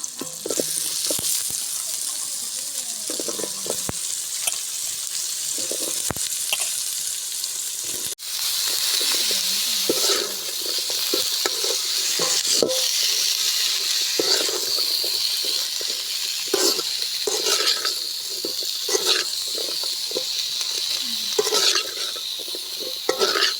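Potatoes fry in a pan with a constant crackling sizzle, while a utensil scrapes and stirs repeatedly, clanking now and then against the metal.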